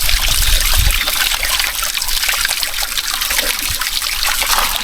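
Fresh, cold spring water trickles and splashes steadily, a continuous close bubbling flow with no one talking over it.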